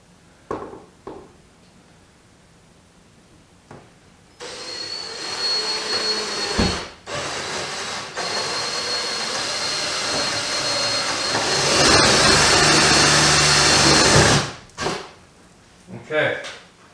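A power drill bores holes through a car door for fitting a wide body kit, a sustained high whining drone lasting about ten seconds that rises in intensity near the end, with someone speaking before and after.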